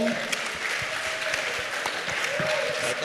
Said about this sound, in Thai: ผมขอเสียงปรบมือให้ กับพี่เจเล่ครับผม